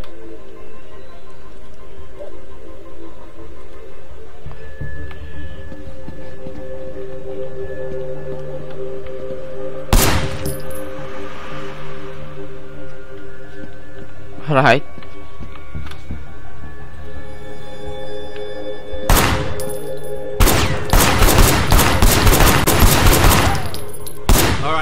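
Sleeping Dogs gunfight with several loud, sharp bursts of gunshots separated by pauses, ending in a longer rapid volley, set over a steady low game-music bed with a brief spoken word.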